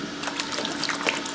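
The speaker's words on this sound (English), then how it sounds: "literally just rinse it right out" Running water rinses conditioner out of natural afro mixed-texture hair at a salon wash, a steady close splashing flow with small trickles and no talking.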